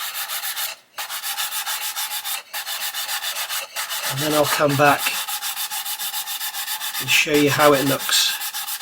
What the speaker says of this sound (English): do some more sanding